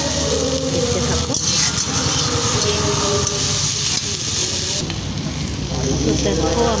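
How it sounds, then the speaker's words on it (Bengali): Something frying in a pan before spinach is added, a constant crackling sizzle up close while a voice talks over it throughout. "তো দেখতে থাকো, ভাজা ভাজা হচ্ছে।"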